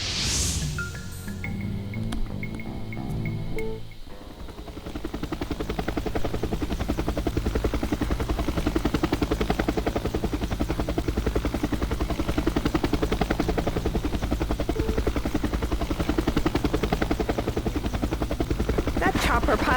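Helicopter in the video game Jagged Alliance 2, its rotor starting with a few short clanks and tones, then a loud, steady thudding whir that continues throughout, with no speech.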